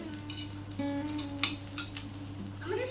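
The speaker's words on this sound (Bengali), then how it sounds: "তেল দিয়ে আরো এক মিনিট মতো ভেজে নেব যতক্ষণ না মুচমুচে হচ্ছে ততক্ষণ পর্যন্ত ভেজে নেব" Moringa (drumstick) leaves fry in a little oil in a pan, giving a soft, steady sizzle with a few light scrapes and clinks of a utensil stirring, fairly quiet and close.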